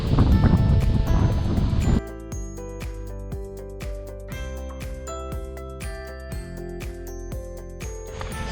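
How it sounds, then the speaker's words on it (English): Wind gusts across open meadow fields divided by a tree line on a hiking trail in the Caledon Hills, a loud broadband rush buffeting the microphone for the first two seconds, then a steadier, quieter blowing with tonal ringing over it. "it's very windy again"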